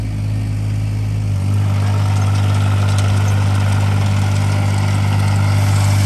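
A Sany SY16C mini excavator, 2022 model, drives in 2-speed at high throttle, its engine note steady and loud and rising after the first second into a constant, close drone with no talking.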